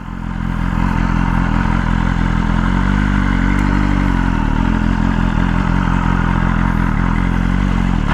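Sport motorcycle engines, a Suzuki Gixxer and a Honda CBR, run as a steady, loud mid-pitched drone throughout, with harmonic bands shifting slightly as the engines change speed, heard close and without talk.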